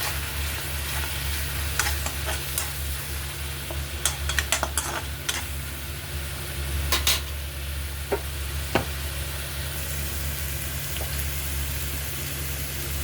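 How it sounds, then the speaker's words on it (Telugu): Curry leaves and green chillies fry in hot oil for a paneer masala curry, a steady close sizzle with scattered pops and spoon stirring scrapes, no talk. "నూనెలో బాగా వేగుతుంది కదండి, ఇప్పుడు కొంచెం కరివేపాకు, పచ్చిమిర్చి కూడా వేద్దాం"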